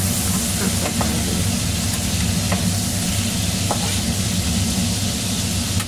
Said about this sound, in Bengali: ভেজে নিলাম কাঁকড়াগুলো।